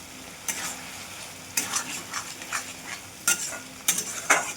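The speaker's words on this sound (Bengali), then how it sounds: "এবার আলুগুলো দিয়ে দেবো" Potatoes are stirred into masala frying in oil, with a background sizzle and clusters of spatula scrapes and clatters against the pan.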